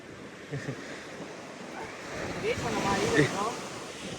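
Sea waves wash onto a beach in a steady rush of surf, with wind buffeting the microphone and faint voices in the background.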